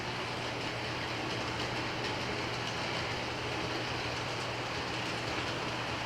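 A model train F7 locomotive rolls southbound on a home layout toward Richmond, giving a steady, continuous rumble with an even, unbroken hum through the whole stretch and no voices.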